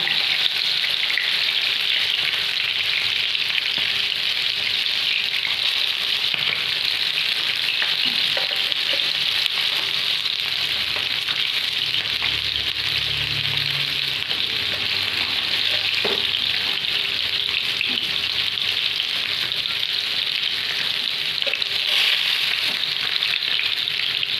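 Anjal (kingfish) fries on a tava in a Mangalore-style preparation, producing a loud, continuous, even sizzle that holds steady throughout, with occasional faint clinks and no voices.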